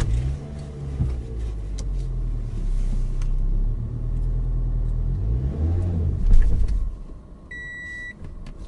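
A manual-transmission car's engine rumbles low and steady as the clutch is slowly released and gas applied, swelling briefly near the end before dropping off, with a short electronic beep at the close.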